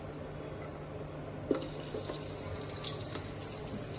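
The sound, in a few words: sliced onion rings frying in a pan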